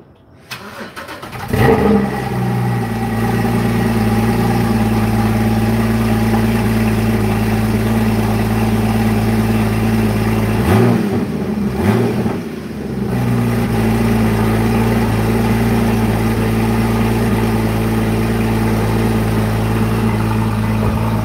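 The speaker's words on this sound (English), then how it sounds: "So we got a cold start. This car hasn't started for 3 weeks." A Ducati Panigale V4 engine, unused for three weeks, cold-starts with a sudden crank and catch, then settles into a loud, steady, close idle with a brief dip midway. No one speaks.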